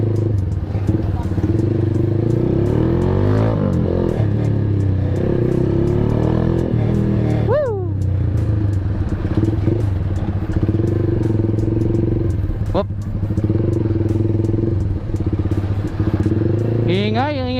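Kawasaki Z200 motorcycle fitted with an SC Project exhaust idling loudly and revving in short bursts, a deep rumbling drone with rising blips, close by, with someone talking over it.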